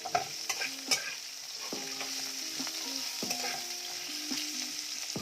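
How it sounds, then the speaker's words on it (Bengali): Ginger and garlic fry in hot oil for a spicy Bengali egg curry, giving a steady close sizzle with several stirring scrapes and knocks early on, without any talk. "আদা রসুনটাকে এরকম ভাবে ভাজবো।"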